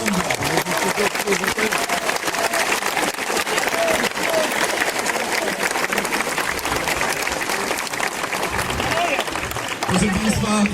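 Crowd of football fans applauding former Arka Gdynia players at a stadium gathering, dense continuous clapping and cheering loud and close throughout, with voices mixed in.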